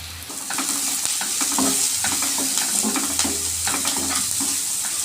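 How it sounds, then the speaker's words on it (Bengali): Chopped onions frying in a pan for a rustic small-fish bhuna, a constant close sizzle punctuated by repeated scraping stirs and spatula taps, steady and fairly loud with no talking. "লাল লাল করে ভেজে নিয়েছি পেঁয়াজটা"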